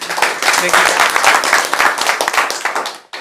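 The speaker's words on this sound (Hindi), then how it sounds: "चलिए एक बार ताली बजाइए तो आप इनके लिए।" An audience at a village panchayat candidate interview breaks into dense, sustained applause, many hands clapping loudly and continuously for about three seconds before tapering off.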